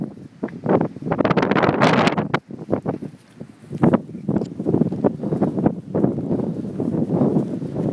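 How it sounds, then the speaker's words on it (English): Strong gusts of wind buffet the microphone in a parking lot as a storm approaches, rising and falling in loud, rushing surges with brief lulls. "Oh, and this wind is picking up."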